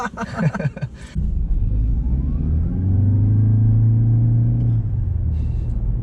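A 2020 Toyota Corolla Hybrid accelerating in power mode, its engine rising into a loud steady droning rumble with a climbing whine after a brief burst of talk, then easing off near the end.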